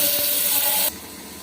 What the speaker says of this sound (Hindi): अब इसमें हम थोड़ा सा पानी डाल लेंगे।